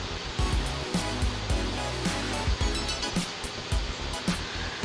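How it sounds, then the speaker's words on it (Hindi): Ghee is added to semolina halwa as it is stirred: a dense, continuous rushing sizzle broken by repeated low thuds and scrapes of the spoon in the pan. "जो घी हमने बचा के रखा था वो भी इसमें ऐड कर देंगे।"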